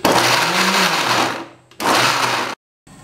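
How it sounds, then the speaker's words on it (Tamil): A mixer grinder grinds chopped ginger without water, a loud steady whirring drone that runs about one and a half seconds, dips and stops briefly, then resumes for another second before cutting off. "இஞ்சியை இந்த அளவுக்கு நறுக்கிட்டு நம்ம மிக்சியில் போட்டு அரைக்கலாம்."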